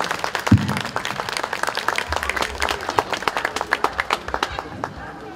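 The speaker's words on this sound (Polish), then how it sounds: "Zobaczcie, jakie ogromne brawa." An audience at a preschool performance event claps steadily, a dense patter of many hands that carries on for several seconds and slowly thins, with a voice speaking over it.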